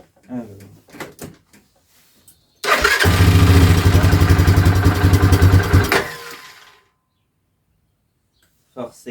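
A motorcycle engine cranks and fires up close by, running loud with a steady rapid pulse for about three seconds before cutting out, with brief talk beforehand.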